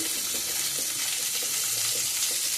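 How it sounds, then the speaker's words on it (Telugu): Onions frying in a pan for a potato puri curry, a steady close sizzle with faint crackling and no talk over it. "మనం ఉల్లిపాయ చక్కగా వేగటానికి వేసుకుని 1 నిమిషం అలాగా మూత పెట్టి ఉంచుతాం"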